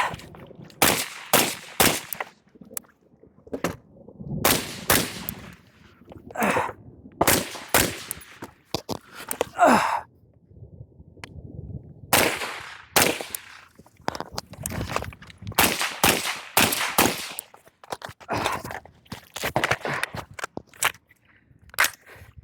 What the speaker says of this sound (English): shoot that target down there that's laying on the ground, run over to here, moving in between with pistol, and then I'm going to try to reload the rifle